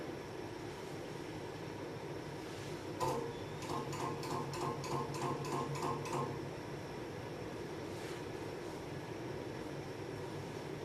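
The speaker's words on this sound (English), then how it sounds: "When we approach high, high is going to be about 200 on this fan, true to what the label on the motor says. Here's high for you." A 52-inch Americana ceiling fan, a relabelled Supreme Mark IV import, running on high at about 200 rpm gives a faint steady motor hum with a rapid mechanical ticking burst partway through.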